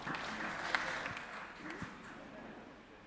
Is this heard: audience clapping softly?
yes